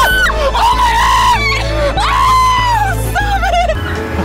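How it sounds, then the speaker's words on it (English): A loud scream sound effect plays at the push of a button, a long wavering shriek that rises and falls for several seconds over a steady low hum before cutting off. "every time I push this button, there's a scream"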